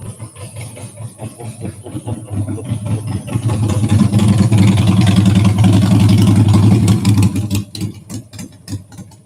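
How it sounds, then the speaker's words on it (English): A motorcycle approaches and passes at a campground. Its engine swells from a distant hum to a loud, close roar through the middle, then fades away with some faint background clatter. "here comes a motorcycle"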